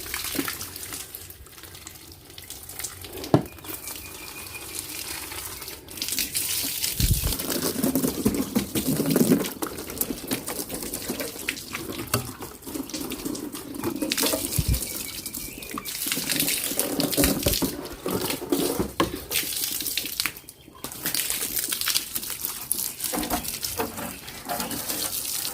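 Tap water runs steadily and splashes while a scooter is washed, a continuous hissing flow with occasional sharper splashes and knocks throughout, fairly close and with no talking.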